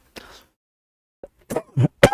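One short cough, a pause, then a cluster of three or four quick, close coughs in a row, with silence in between.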